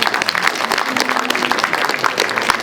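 Audience applause at a live horror-show event in Boulogne, a dense, steady patter of many hands clapping throughout, fairly loud and close.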